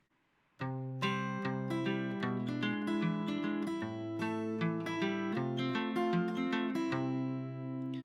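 Fingerstyle acoustic guitar plays a song alone, a steady low bass pattern under plucked higher notes and chords, clear and close, continuous for several seconds.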